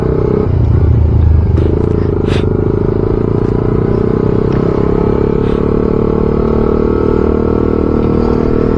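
A manual-transmission motorcycle engine runs uphill, a loud, constant low rumble that changes character near the start, as if shifting from first to second gear, with faint clatter on top.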